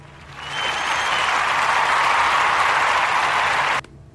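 A dense, even burst of audience applause swells in quickly, holds steady and loud for about three seconds, then cuts off abruptly.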